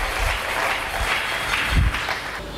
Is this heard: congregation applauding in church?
yes